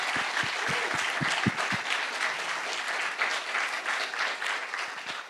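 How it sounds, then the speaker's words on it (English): Sustained applause at a fintech panel event for the day's two main sponsors, Satispay and Finologee; a large audience claps steadily throughout, with a few close individual claps standing out at the start. "give a big round of applause to our 2 main sponsors of the day, Satispay and Finologee"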